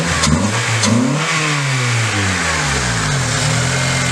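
A 2005 Honda Accord with a short ram intake revved from idle, a couple of quick throttle blips rising and falling, then a longer climb and settle, loud and close with no talking.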